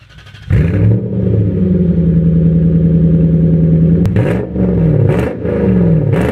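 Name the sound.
drift truck engine first startup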